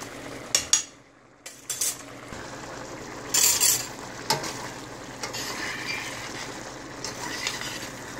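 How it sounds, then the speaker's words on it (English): Pasta with fish sauce is worked in a hot pan with a fork, giving scattered metallic scrapes and clinks over a soft steady sizzle, close and moderately loud, with no talking. "I just want to pick it up with the fork and make sure it's all separated."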